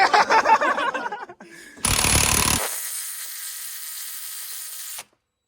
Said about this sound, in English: take off the stock pulley. Ugga-dugga this thing.